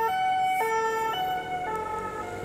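A police siren wails in a steady two-tone alternation, clear and fairly close as the patrol vehicle drives past a motorcycle rider on the wrong side of the road, with no talk over it.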